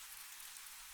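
Steady, dense rainfall patters across a surface in a continuous even hiss, soft and unbroken, with no voices.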